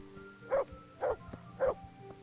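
A dog barking in the medieval video game Kingdom Come: Deliverance, three evenly spaced mid-distance barks over a low ambient background.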